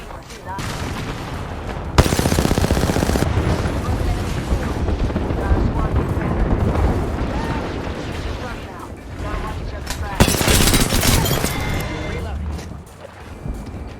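Dense gunfire and explosive bursts from the Apex Legends battle royale shooter, loud and continuous across the whole stretch, with sharper blasts near the start and again toward the end, over game voice lines.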